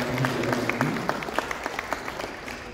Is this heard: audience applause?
yes